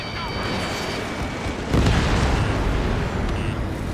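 Missiles and explosions roar in the Ace Combat 7 game as a dense, loud wall of booming blasts, swelling into a heavier burst midway and continuing under shouted radio chatter.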